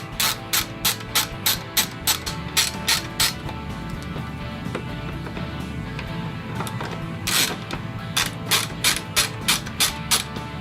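Hand ratchet loosening headlight bracket screws on a Harley-Davidson Road Glide fairing: quick, close metallic clicking in short, evenly spaced bursts, a first run of strokes, a pause, then a second run.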